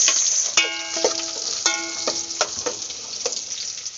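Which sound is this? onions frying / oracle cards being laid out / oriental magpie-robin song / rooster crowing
onions frying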